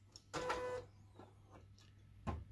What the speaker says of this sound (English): The carriage will move forward.